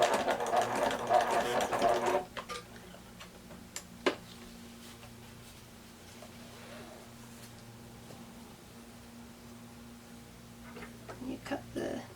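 A sewing machine back stitching the end of a fabric face mask runs in a loud, fast whirring burst. It stops after about two seconds, followed by quiet ticks and small handling clicks while a person talks.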